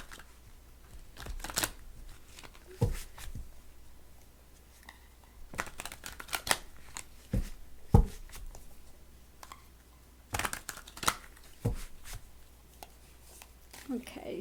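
Oracle cards shuffled and pulled from a deck, soft papery flicks and riffles scattered irregularly with quiet handling noises between them, close and fairly faint.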